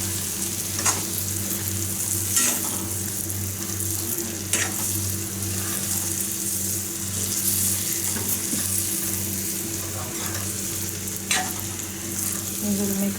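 Hard-boiled eggs in egg roast masala stirred in a hot pan, giving a steady close sizzle with repeated scraping strokes throughout and no voices.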